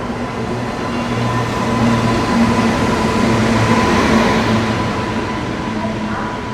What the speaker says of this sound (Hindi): ये आ गई लगभग 26 मिनट की देरी से अपनी छत्तीसगढ़ एक्सप्रेस